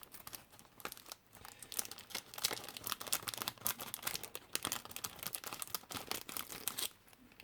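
Scissors cutting into plastic bags of model-kit parts, a close crinkling and snipping rustle that continues steadily for several seconds, with no speech.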